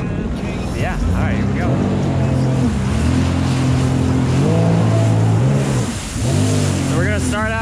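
A Sea-Doo Spark Trixx personal watercraft, 90 horsepower in sport mode, runs close by on open water with a loud, steady engine drone that rises and falls in pitch with the throttle, under brief talk and splashing water.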